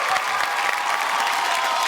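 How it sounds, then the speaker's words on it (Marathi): A studio audience on a Marathi television show breaks into brief, dense, steady applause with a faint hint of cheering mixed in, close and continuous. "जोरदार टाळ्या होऊन जाऊ दे."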